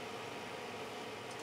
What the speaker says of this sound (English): The noise you're hearing is a charger I have for my solar array